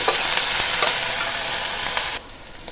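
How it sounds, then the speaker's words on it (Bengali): Ginger paste frying with browned onion paste in hot oil for an egg curry, a continuous close sizzle with light stirring scrapes, dropping off sharply near the end. "দিয়ে দেবো আদা বাটা।"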